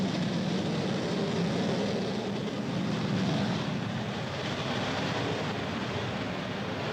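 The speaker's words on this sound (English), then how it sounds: "is this an Airbus A330 200 or 300?" Airliner engine roar from an Airbus A330 in Microsoft Flight Simulator 2020 at Washington Dulles International Airport, a steady broadband jet rumble holding constant for several seconds with no talk.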